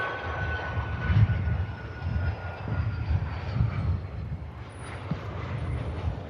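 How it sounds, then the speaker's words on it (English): Learjet engine at Manchester Airport, a low steady rumbling roar at moderate distance with a faint high whine, rising and falling slightly as the small jet moves. "Here's that beautiful Learjet."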